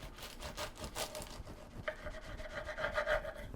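A knife rasps back and forth through a crusty, toasty-brown loaf of beer bread, steady sawing strokes close up and fairly quiet.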